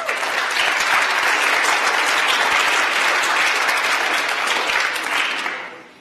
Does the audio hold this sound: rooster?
no